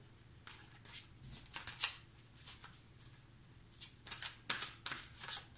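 Tarot cards being shuffled and laid out for a horoscope reading, giving soft, papery riffles and flicks in irregular bursts, fairly quiet and close, with no talking.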